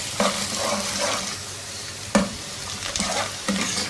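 Onion fries in oil in a pan with a steady sizzle, and a spoon scrapes and stirs at intervals, close up, with no talking.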